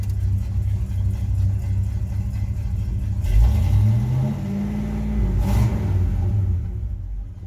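A 1968 GMC C20 custom truck engine cranks and catches, the revs swelling around the start before settling into a steady, loud, close rumbling idle with no talking.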